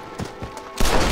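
A dense burst of gunfire goes off in a video game showdown. A short thump comes first, then a loud, sustained crash of shots fills the second half.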